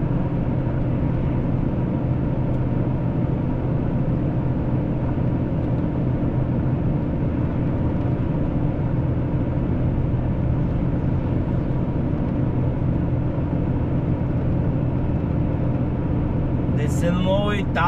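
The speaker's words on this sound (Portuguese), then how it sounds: "Baixar mais uma marcha aqui." Heavy truck engine droning steadily and loudly from inside the cab as it downshifts on a steep German road, a continuous low rumble throughout with a brief higher whine near the end.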